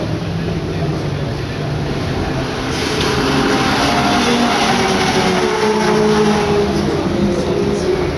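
Legend race cars rolling slowly behind a safety car on a street circuit: a steady, dense engine drone that swells slightly midway and continues without a break.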